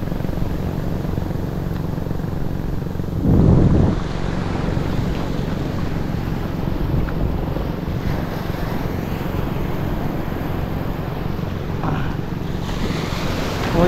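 Ocean waves break and wash ashore in a steady, loud surf roar layered with wind rumble, one heavier crash standing out early, with no voices.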